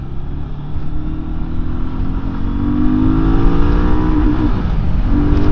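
An MBP C1002V motorcycle engine revs steadily upward while riding, a loud continuous drone rising in pitch over several seconds with rushing wind noise.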